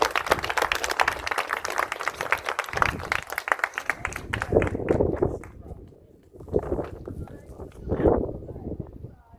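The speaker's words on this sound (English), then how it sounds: "give a round of applause to that man right there" A crowd at an outdoor historical marker ceremony claps in a dense burst of applause that tapers off, followed by scattered claps and voices talking.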